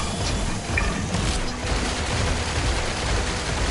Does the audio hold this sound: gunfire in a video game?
yes